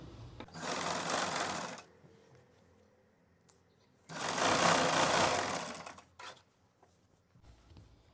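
A sewing machine stitches a salwar waistband in two close, steady whirring runs of about a second and a half and two seconds, separated by a quiet pause, with a brief clack afterward.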